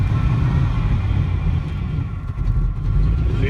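A car engine with throttle body fuel injection idles steadily nearby, a continuous low rumble with no talking.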